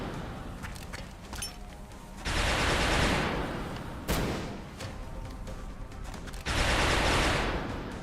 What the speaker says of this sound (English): We're gonna flashbang him.